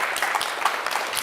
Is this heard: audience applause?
yes